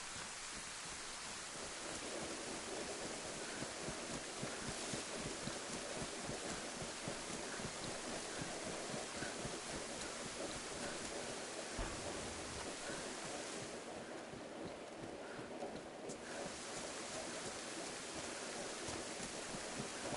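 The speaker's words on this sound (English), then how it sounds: "That's all it does is rain in this server, I think." Rain in the video game DayZ, steady and dense, a continuous hiss of rainfall that fills the whole stretch with no voices over it.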